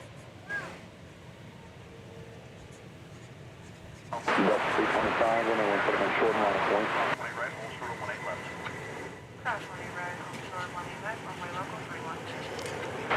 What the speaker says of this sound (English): we'll watch this American Airlines aircraft coming in from San Diego